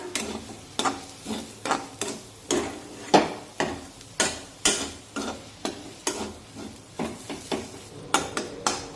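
Spices for a village-style brinjal curry are stirred and sautéed in a pan. A spoon scrapes and knocks against the pan in a quick, regular rhythm, with a low sizzle underneath and no talking.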